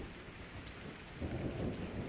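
Heavy rain pours steadily throughout, with a low rumble of thunder swelling louder in the second half, close and dense with no voices.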